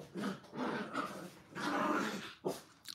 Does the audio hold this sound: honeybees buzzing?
no